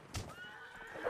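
A horse whinnies in the video game Mount & Blade: Napoleonic Wars, one loud, close neigh rising and wavering for about a second, with no talk over it.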